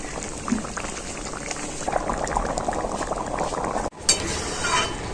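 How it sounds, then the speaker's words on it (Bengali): Spinach and small prawn gravy boils steadily in a pan, a dense continuous bubbling and simmering close by, with a brief clink and a short break near the end before the bubbling resumes. "তারপর আবারও কিছুক্ষণ ঝোলটাকে আমি ফুটিয়ে নেব"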